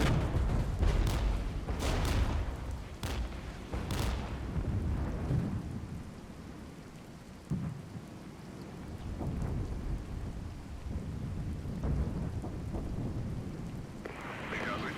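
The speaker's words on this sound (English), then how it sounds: "We'll hit that unit with the artillery anyway." Heavy booming artillery fire in the wartime strategy game Regiments, several loud deep blasts in the first few seconds followed by rolling rumble and scattered impacts over a constant battlefield din.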